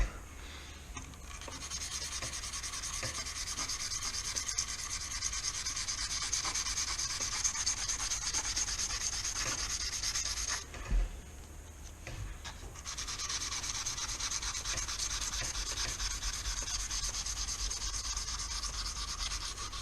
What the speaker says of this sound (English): I'm gonna start scrubbing the slot